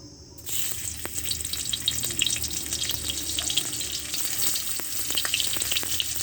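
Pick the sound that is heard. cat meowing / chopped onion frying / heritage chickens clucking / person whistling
chopped onion frying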